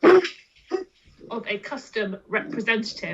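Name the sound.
dog barking during presentation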